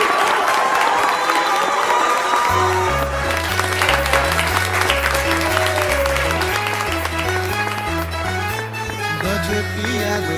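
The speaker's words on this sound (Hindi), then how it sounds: "तो जोरदार ताली के साथ स्वागत करी अपना तेज प्रताप भैया के" Loud audience applause and cheering welcome guest Tej Pratap Yadav onto a Bhojpuri talk show, sustained for about ten seconds over steady, rhythmic background music with a deep bass line.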